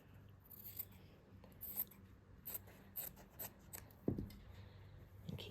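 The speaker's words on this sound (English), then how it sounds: "So I'm just going to cut this bit off here." Scissors snip through fabric in a few quiet, separate cuts, close by, with faint rustling of the cloth between the snips and no talking.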